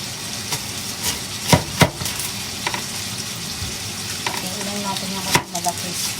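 Onions and thawing frozen beef fry in a pan for spaghetti, giving a continuous close sizzle broken by several sharp spatula knocks and scrapes.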